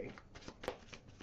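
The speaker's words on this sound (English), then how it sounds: "I need a couple more shuffles." Tarot cards being shuffled by hand, a few soft riffling bursts close up at low level, with a voice present.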